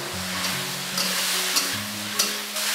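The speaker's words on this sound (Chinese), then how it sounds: "一直大火给它翻炒" Pumpkin seasoned with salt and a little light soy sauce sizzles loudly in a pan over high heat, with a continuous frying hiss broken by the scrape and clatter of stirring.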